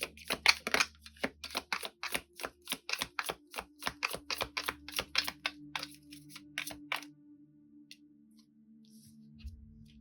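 Tarot cards being handled and drawn, with a quick run of crisp, close slapping and flicking shuffles that slows and stops, followed by a quiet pause.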